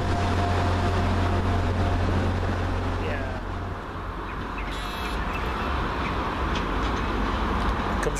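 An Arriva Trains Wales Class 175 train rumbles steadily as it pulls into Deganwy station, a low continuous roar with a brief squeal of brakes, loud and close by.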